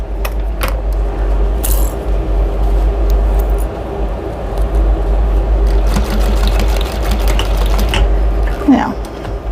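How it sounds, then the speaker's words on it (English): A sewing machine stitches bias tape onto a quilted drying mat, a close mechanical whirring with short bursts and small clicks, accompanied by a low steady hum and faint handling noises. "I'm just going to do 2 stitches on there."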